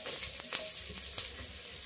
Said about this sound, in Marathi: बघा कसा कांदा तळायला टाकला आधी आपण पहिले